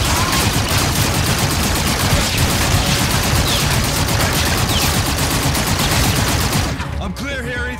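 Gunfire in the Call of Duty: Infinite Warfare video game rattles in a long, loud, continuous burst of rapid automatic shots, easing off near the end as faint game sounds come through.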